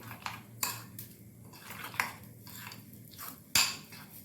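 A spoon mixes semolina batter with tempering stirred into a bowl, clinking and knocking against its sides in a handful of uneven strikes over a soft scraping background, close up with no talking.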